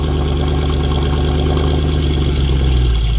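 A Mercedes C63 AMG on a cold start idles with aftermarket Alibaba headers, a loud, close, steady low engine rumble with a slight rise toward the end, no talking.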